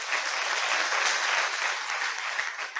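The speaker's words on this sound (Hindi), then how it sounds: "तालियां बहुत धीमे से बजी है" An audience applauds steadily at an annual celebration of the Prabhu Anubhuti Bhavan at the Shahbad service centre, a dense, even wash of clapping that holds at a fairly soft level with no voices on top.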